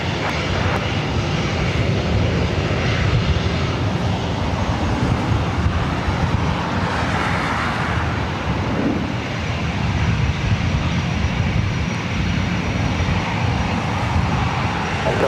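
An old Northwest Airbus A320 jet, 31 years in service, takes off from LAX with a loud, steady broadband engine roar that holds throughout, swelling slightly in the middle.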